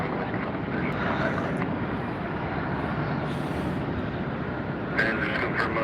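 A Southwest airliner takes off at Tampa airport, its engines producing a broad, continuous rumbling roar at a distance with some wind noise.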